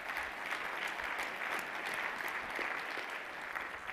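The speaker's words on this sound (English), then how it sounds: "Give him a round of applause." An audience at a university scholarship event applauds steadily, a dense wash of clapping hands sustained without pause for several seconds.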